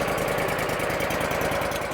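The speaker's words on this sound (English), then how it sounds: "Yep, you got a lawnmower." A 26-horsepower commercial riding lawnmower with a 56-inch deck and three blades runs steadily, a close, even engine drone with a rapid pulsing beat and no talk.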